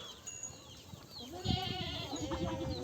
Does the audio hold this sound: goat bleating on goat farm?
yes